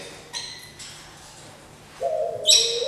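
A tropical exotic bird at a bird exhibition calls with a couple of bright, tonal chirps and a longer whistled note, moderately close over a hushed indoor background.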